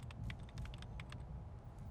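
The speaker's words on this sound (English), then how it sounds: "It's making the typing sounds" Rapid keyboard typing in the video game Fallout New Vegas, a steady run of close, crisp key clicks over a low background hum, with no talking.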